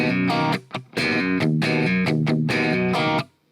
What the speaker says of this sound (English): we're going to fill it with 2 little dead notes, a downstroke and an upstroke.